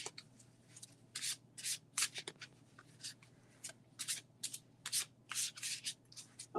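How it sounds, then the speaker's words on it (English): A goddess oracle card deck is shuffled by hand, with a quick series of soft, close riffling and rubbing bursts separated by brief pauses in a quiet room. "So shuffle a little bit more."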